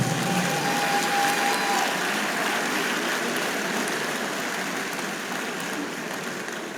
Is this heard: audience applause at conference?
yes